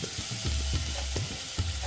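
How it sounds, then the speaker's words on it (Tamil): Coconut filling for kozhukattai being stirred in a hot pan, with soft repeated scraping strokes over a faint sizzle, quiet and close. "ஸோ இந்த மாதிரி நல்லா கிளறிட்டே இருங்க."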